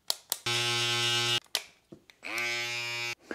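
Electric hair clippers buzz during a fade haircut, two sustained droning runs of steady motor hum with short clicks and handling noises between them, close to the microphone.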